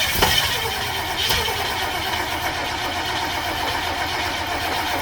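A bus engine with a burnt valve is cranked over in a steady, continuous churn, with a sharp knock near the start and another a second later, close and fairly loud, with no voices over it.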